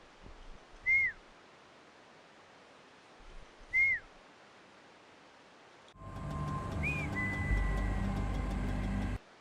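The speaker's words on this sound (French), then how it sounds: "Tu peux arrêter de siffler?" Short rising-falling whistles sound twice over a quiet background, then a third whistle rides over louder droning engine-like game noise from the rider in the Trials motorbike video game.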